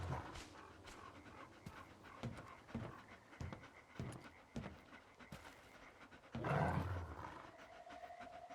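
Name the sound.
dogs panting and growling in the video game S.T.A.L.K.E.R. 2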